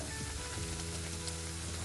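Tulumba dessert dough fries in hot oil, giving a steady, close, fine crackling sizzle that stays even and quiet throughout, with no one speaking.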